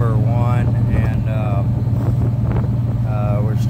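A Detroit Diesel 6-71 two-stroke engine with a faulty injector smoking at the exhaust, idling with a loud steady low drone and throb while someone talks over it.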